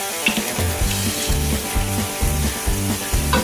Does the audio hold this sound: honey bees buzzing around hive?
no